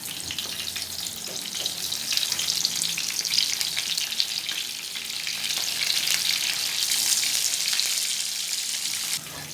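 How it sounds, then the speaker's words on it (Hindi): Eggplant slices frying in hot ghee on a tawa, a dense continuous sizzle that swells slightly over time, close and fairly loud, with no talk. "बैंगन की एक साइड को जो है ना, तकरीबन 4 मिनट तक फ्राई करेंगे"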